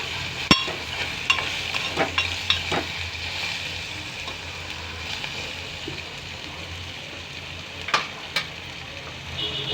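Sliced okra frying in a home kitchen pan, a soft continuous sizzle with scattered sharper clicks and scrapes of stirring now and then; fairly quiet and close, with no voices.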